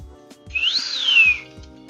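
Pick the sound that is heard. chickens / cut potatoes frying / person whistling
person whistling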